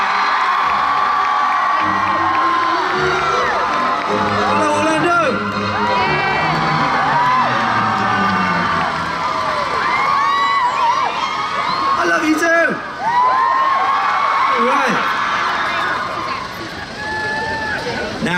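An audience at a Harry Potter film talent Q&A cheers and whoops loudly to welcome Tom Felton, who played Draco, a sustained roar of shouting and applause with a voice heard over it.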